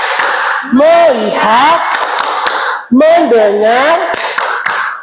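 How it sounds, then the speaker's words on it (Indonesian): Students in an Indonesian classroom perform a 'focus clap' rhythm, with sharp group claps punctuating loud chanted voices in two repeated phrases. "Tepuk fokus."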